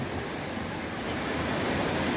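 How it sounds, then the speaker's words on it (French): Rushing water at Kawa Kawa falls makes a steady, broad roar with wind blowing across the microphone, constant and close with no pauses. "Un petit vent créé par les courants d'eau."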